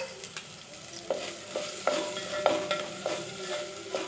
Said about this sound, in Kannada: ನೋಡಿ ಫ್ರೈ ಆಗ್ತಾಯಿದೆ